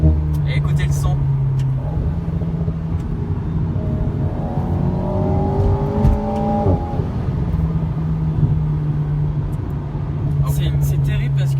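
An Alpine A110 sports car engine pulls under acceleration on a Provence road, a steady throaty drone rising in pitch midway, then settling back, loud and continuous with a few clicks near the end.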